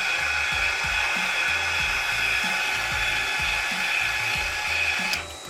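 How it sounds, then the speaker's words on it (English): A lathe cutter scrapes the face of a foam RC touring car tire, giving a steady, close whirring hiss under a rapid rhythmic low thumping from the spinning tire, which drops off abruptly near the end. "we can hear it audibly, making contact with the cutter to the face of the foam"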